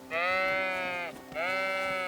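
Two long, close sheep bleats in the video game Kingdom Come: Deliverance II, loud and wavering, separated by a short pause, with no talk over them.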